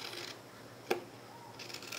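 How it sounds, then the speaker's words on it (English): Scissors trim the edge of a sheet of paper: one faint, sharp snip stands out in a quiet room, with soft paper rustle before and after it. "you can use either a paper cutter or your scissors and just trim off"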